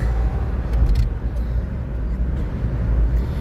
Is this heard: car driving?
yes